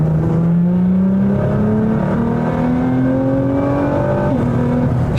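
A 2024 Nissan GT-R accelerates hard, its engine note climbing steadily in pitch, then briefly dipping at a gear change before pulling up again; loud and close, with no talking.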